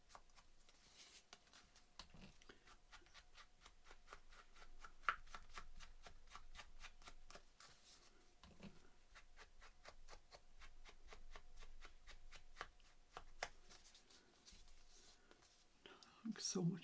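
Quick, soft dabbing and brushing taps in a steady rapid rhythm as distress ink is worked around the edges of notebook paper, close and quiet, with no talking.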